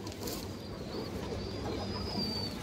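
Indian high flyer Kaldom pigeons coo faintly in a loft, soft murmuring calls under a steady background hiss.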